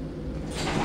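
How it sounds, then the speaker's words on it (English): Lift doors slide open in an office lift at Canary Wharf, a short soft mechanical whoosh rising in noise toward the end, close by and heard alone. "Doors opening."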